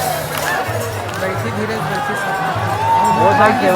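Throngs of people pack a Shiv Mahapuran katha pandal in Baloda Bazar, producing thick, close hubbub of overlapping voices and calls, steady and loud with a swell near the end.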